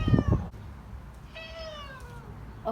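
A curious ginger cat lets out two close meows, a short harsh one at the start and then a longer, clearer drawn-out meow, with quiet room background between them.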